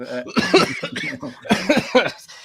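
Several harsh coughs in quick succession, close and fairly loud, with a bit of throat clearing between bursts.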